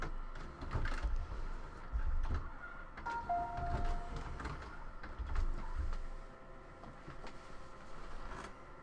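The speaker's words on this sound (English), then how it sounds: "You can hear it going through its little cycle here, starting to scrub the head to clean it all up." An inkjet printer runs its print-head cleaning cycle, giving off faint mechanical whirring, brief squeaks and soft shuffling clicks that come and go at a low, steady level.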